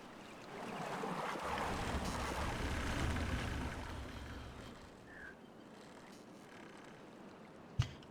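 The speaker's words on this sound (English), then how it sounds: "The water sound is really nice." Flowing water ambience in the video game Timberborn, a soft rushing wash that is fuller at first and then thins to a quieter trickle, with a brief click near the end and no talking.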